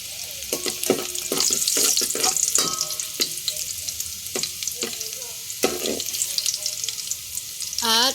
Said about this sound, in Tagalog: Kailangan sa pagisa ng alamang ay maraming mantika. Yan, niligay ko na ang bawang.